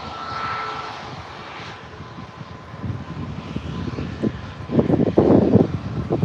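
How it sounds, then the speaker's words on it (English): An Emirates Boeing 777 lands at Birmingham airport, its engine roar heard from a distance with wind buffeting the microphone, swelling louder toward the end. "The ever impressive Emirates 777 just landing there, making its presence felt here at BHX."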